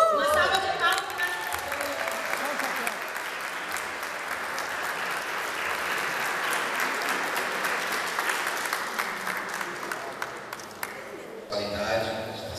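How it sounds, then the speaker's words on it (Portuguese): A church congregation applauds for the pastor during a Pastor's Day tribute, dense sustained clapping filling the room with sharp individual claps poking through, loud and close, fading slightly near the end as a voice returns. "Uma salva de palmas para"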